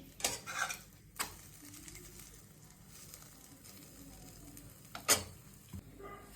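Soft, steady sizzling of paratha frying in a pan, with a few sharp clinks and scrapes of utensils; no talking.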